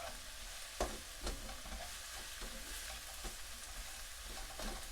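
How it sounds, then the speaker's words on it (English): Brown stew pork with onion and ketchup cooking down in a pot, a steady close sizzle with occasional clinks and scrapes of a spoon stirring. "this is cooking down nicely"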